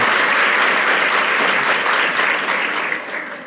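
Students at a girls' school in Jamdoli break into loud, dense clapping all together, a full burst of applause that slowly fades over a few seconds.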